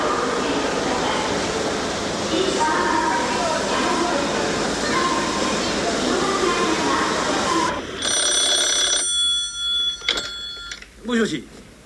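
A telephone rings in short electronic bursts after a stretch of busy background noise and talk, and voices follow the rings.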